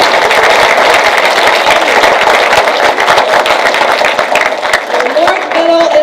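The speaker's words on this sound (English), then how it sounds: "let's give her a round of applause for being here with us today" Audience applause in a middle school gathering, dense steady clapping throughout, loud and close, with a voice speaking over it near the end.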